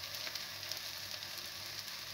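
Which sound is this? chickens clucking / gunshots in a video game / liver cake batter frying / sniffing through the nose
liver cake batter frying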